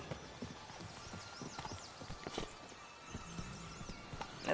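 Roach, a horse in the video game The Witcher 3, gallops with steady rhythmic clip-clop hoofbeats, close and moderately loud, with a brief whinny-like tone and a faint hum underneath.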